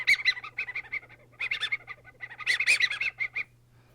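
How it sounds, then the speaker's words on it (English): A rapid run of squeaky, clucking bird-like calls, made by a small sound-effect instrument, repeated in bursts over a low steady hum. "quite a few other useful sound effect instruments, like this boat sound, and another bird sound."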